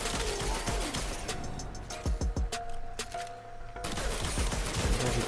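Panthera Prime firing in the shooter Warframe at the floor, a dense, loud run of gunfire with a rapid cluster of sharp shots in the middle and mechanical ticks, without speech.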